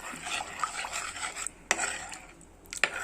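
A spoon stirs fish curry gravy in a pot after boiling water has been added. It makes a quiet, continuous swishing with a few sharp clinks against the pot.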